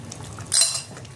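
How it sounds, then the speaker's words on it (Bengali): Fried chicken pieces drop into simmering butter chicken masala in a pan, giving one brief, close clatter with a quick hiss over a quiet kitchen background. "এই চিকেনটা আমি দিয়ে দেবো, ভাজা চিকেনটা দিয়ে দিলাম।"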